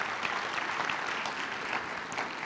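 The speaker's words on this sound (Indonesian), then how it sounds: "Boleh kita beri tepuk tangan kepada bapak-bapak di tempat ini." A church congregation applauds the fathers present, a steady wash of many hands clapping together from a moderate distance, sustained without a break throughout.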